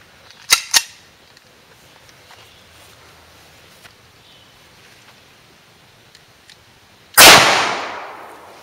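A .45 ACP pistol fires during a penetration test: two sharp shots in quick succession, then a long quiet pause and one more loud, close crack with a trailing ring.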